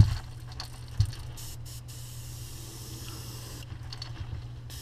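Paint airbrushed onto a crankbait fishing lure at low pressure gives a soft, continuous hiss throughout, close and fairly quiet, with a few small clicks near the start.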